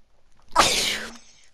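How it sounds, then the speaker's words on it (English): A single loud, close sneeze with a sharp onset and a roughly half-second noisy burst, followed by a short faint tail, alone with no talking. "felt like I almost sneezed my brains out"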